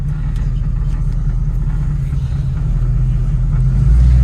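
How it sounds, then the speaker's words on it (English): A 1937 Ford Coupe's steady, deep engine rumble drones on continuously while driving, swelling slightly louder at the end as the car moves along. "so we can kind of hear the car run here"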